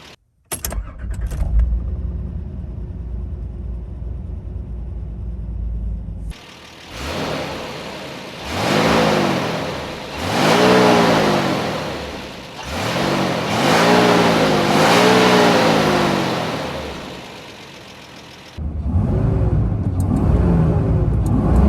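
A fuel-injected 4.2-liter TB42 inline-six gasoline engine in a Nissan Safari revs up repeatedly, with a rhythm of rising and falling throttle blips. It starts with a steady idle, then settles back to idle at the end. Loud and close, with no talking.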